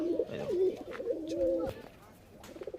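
Kashmiri pigeons at a loft coo repeatedly up close in throaty, rolling phrases, with someone talking over them and wing flutters near the end.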